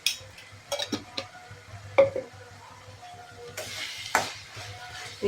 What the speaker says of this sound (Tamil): எண்ணெயிலே இந்த மிளகாய் பொடி வந்து நல்லா வதங்கட்டும்.